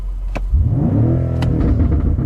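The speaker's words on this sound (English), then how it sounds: "See, you can like rev it" A BMW M5 Competition engine, 625 HP, revs up sharply from idle and holds a loud, rising rumble close by. Sharp clicks cut in near the start and in the middle.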